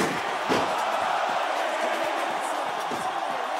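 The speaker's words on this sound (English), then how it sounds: "This capacity crowd is certainly getting its money's worth." Arena crowd in the wrestling video game WWE SmackDown vs Raw 2005 roars in a steady, dense wash of cheering, with a few thuds and shouts breaking through.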